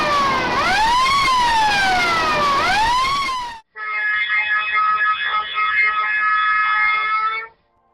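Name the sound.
fire emergency alarm on drilling rig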